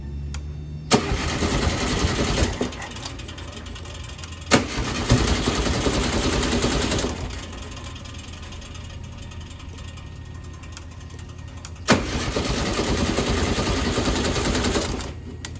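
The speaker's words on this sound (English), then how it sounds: "let's crank her and see if she starts" A VW Bug engine with fuel float bowl and seat trouble cranks in three separate bursts, the starter churning loudly each time with short pauses between, with no clear sign of catching and running on its own.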